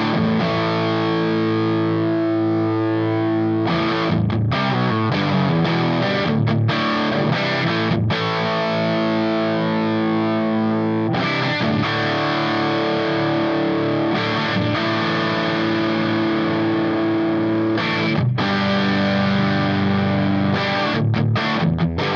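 Electric guitar driven through a HeadRush amp-and-pedal rig with heavy distortion, playing loud sustained chords and riffs with short breaks, steady and close, no talking.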